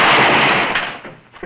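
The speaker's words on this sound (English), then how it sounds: "The gun went off, didn't it?" A single revolver shot rings out loud and close at the start of a Western saloon scene, its blast decaying into a long ragged echo that fades over about a second and a half, with no voices.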